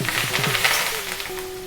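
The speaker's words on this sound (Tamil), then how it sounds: "இப்போ வந்து நான் லாஸ்ட்டாக வந்து முந்திரி பருப்பு மட்டும் வறுத்து போட போகிறேன்." Cashew nuts fry in hot oil in a home kitchen, giving a short, close, steady sizzle.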